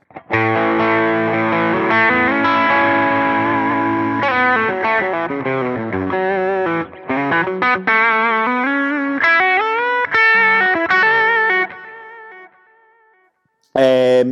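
Electric guitar through a Line 6 Helix Dyna Drive overdrive, a run of sustained distorted chords and melodic notes up close, ending with a short silence and a final strum.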